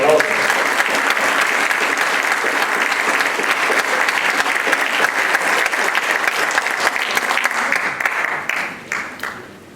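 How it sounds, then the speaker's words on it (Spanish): Sustained applause from an audience at a law-association lecture on oral litigation in criminal proceedings, a dense steady wash of many hands that holds for several seconds and then thins and fades at the end. "Un aplauso por favor."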